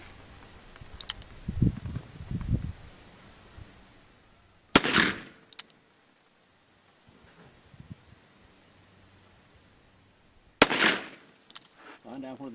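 A stainless Colt Python .357 Magnum revolver with a 4-inch barrel fires two loud, sharp shots about six seconds apart. Each shot has a short ringing tail. Low muffled sounds come before the first shot.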